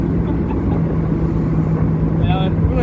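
Several Ford Mustangs with Coyote V8 engines cruising together on a club drive, a loud continuous low engine drone heard from inside a moving car, with a person talking over it.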